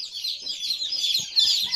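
Newly hatched chicken chicks give high, busy chirps that run continuously near the mic, with a few faint low thumps and handling noises underneath.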